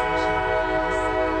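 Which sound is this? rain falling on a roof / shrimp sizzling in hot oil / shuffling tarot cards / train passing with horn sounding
train passing with horn sounding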